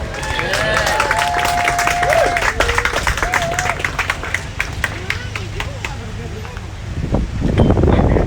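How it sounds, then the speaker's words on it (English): A crowd at a crocodile show claps and cheers continuously, with voices calling out over the applause before it swells again near the end. "Give me the applause."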